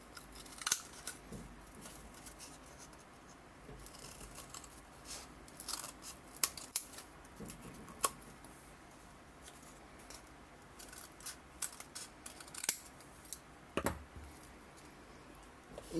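Scissors snipping through cold porcelain clay, a scattered series of faint, crisp clicks and cuts over a quiet background, irregularly spaced.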